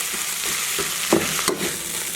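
Boiled potato stir-fried with salt, ginger powder, Sichuan pepper powder and chicken bouillon in a pan gives a continuous soft sizzle, with a few scraping stirs of the spatula close by.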